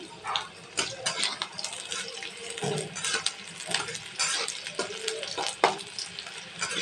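Chopped onion and green chillies frying in a pan for an okra dish, with crackling sizzle and irregular scraping stirs and clatters, close and moderately loud, no voices.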